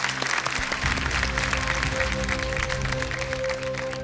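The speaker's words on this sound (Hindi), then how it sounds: "तालियों के साथ आपका हम स्वागत करते हैं।" Studio audience on a KBC quiz show applauds to welcome a lifeline companion onto the set, a loud, dense and continuous wash of clapping with a low musical hum underneath.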